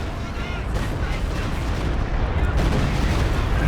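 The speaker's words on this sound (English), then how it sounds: "good super barrage though" Super barrage artillery fire in Company of Heroes 2, a dense, continuous roar of overlapping shell blasts and rumbling impacts that holds steady and slightly intensifies across the stretch, loud and close.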